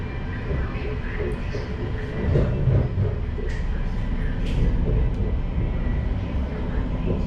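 Inside the passenger cabin of a Bangkok MRT Blue Line metro train pulling out of Tha Phra station, a steady, fairly loud low rumble of wheels and motors with faint rattles and occasional soft swells, with no clear talk.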